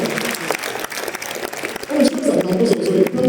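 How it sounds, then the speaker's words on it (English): A corporate event audience breaks into a round of applause, steady clapping that swells louder toward the end, heard behind a speaker's voice. "Don't you think you deserve a big round of applause for that?"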